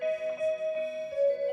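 A Seiko musical clock, model QXM606NLH, plays its Crystal Bell Four Seasons Spring melody, a sustained, ringing electronic bell tone with gently pulsing notes, clear and close, without talking.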